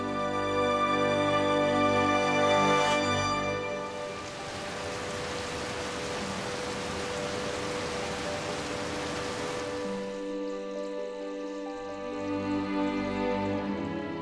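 Rain pours down and soaks dry scrubland: a broad, steady hiss of falling water swells in the middle and sits beneath a sustained orchestral music score.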